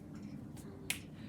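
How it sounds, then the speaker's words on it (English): A single sharp finger snap, close and crisp, lands near the end over a quiet classroom room tone with a faint earlier tap. "When I snap my fingers, tell me what it is."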